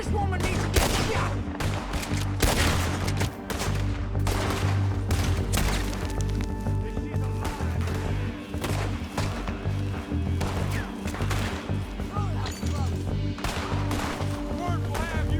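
Dense, loud gunfire from a Red Dead Redemption 2 shootout, many sharp shots and rapid volleys packed across the whole stretch, with voices talking between and under the shots.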